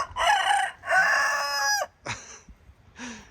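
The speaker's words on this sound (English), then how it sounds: "His crow is weak" A rooster gives a weak, thin crow in a backyard chicken flock, two short strained bursts followed by a couple of faint clucks, close and clear with no talking.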